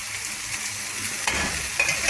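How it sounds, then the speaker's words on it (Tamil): Coriander leaves and tomato fry in a hot oiled pan, giving a loud steady sizzle with stirring scrapes that swell near the end, no voices. "இப்போ இதில் இந்த மல்லித்தலையும் தக்காளியும் போட போகிறேன்."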